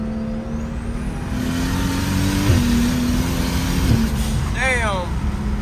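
A turbocharged car accelerates hard, its engine note climbing steadily through gears with a rising, strained roar heard from inside, and a brief high whine near the end.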